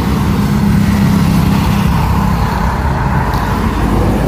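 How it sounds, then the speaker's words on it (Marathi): Small vehicles roll past on a roadside near a Kolhapur dhaba, a continuous low rumble of engines and tyre noise, steady and fairly loud with no clear voices. "ह्या किरकोळ गाड्या जात आहेत."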